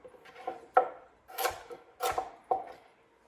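A knife rough-chops carrots into big rustic slices on a cutting board while prepping a slow cooker meal. Several close, irregular thunks and scrapes land about half a second apart, with no talking.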